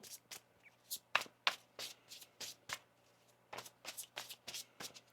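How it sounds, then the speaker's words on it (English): Tarot cards being shuffled by hand, a series of crisp riffling bursts in irregular rhythm, close and fairly quiet, with no talking. "One more shuffle here."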